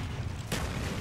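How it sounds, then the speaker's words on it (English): A grenade blast in the Call of Duty firing range Domination map lands as one sudden broadband burst midway, with a dense low rumble carrying through behind it. "Throw a grenade!"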